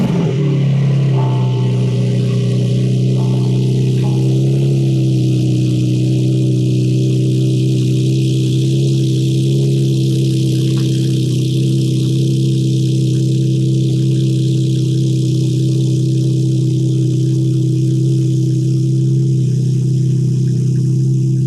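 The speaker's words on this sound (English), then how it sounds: "once I start the car up and I open up the canopy" A TechArt Targa Porsche engine idles steadily and loudly at close range, a low, even hum that holds unchanged throughout with no voices.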